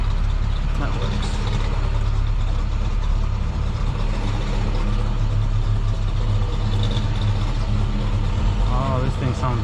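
1970 Pontiac GTO engine running, a loud continuous low rumble heard up close, with people talking nearby over it.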